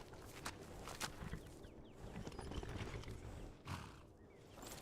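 Horse in a video game, with steady clip-clop hoofbeats, snorting and a neigh over a dense, faint game soundscape.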